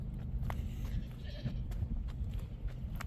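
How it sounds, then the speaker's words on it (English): Young goats on an off-grid homestead give a few short, faint bleats amid low background rumble, heard from a little distance on a chilly day. "We'll walk out here and see the baby goats."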